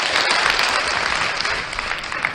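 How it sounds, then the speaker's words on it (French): A show audience bursts into loud, sustained applause at a comedy performance, dense and close, with faint crowd voices underneath. "Hey, les applaudissements pour qui est à la maison."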